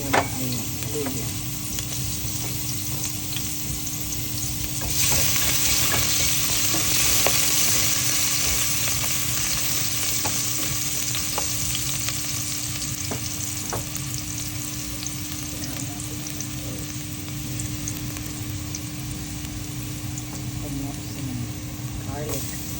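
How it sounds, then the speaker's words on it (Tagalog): Ginger aromatics sizzle steadily in a hot pan for a pork dinuguan with squid ink, a continuous close frying hiss that swells as more goes in, with a voice talking over it. "Unahin natin ang ating mga aromatics na igisa."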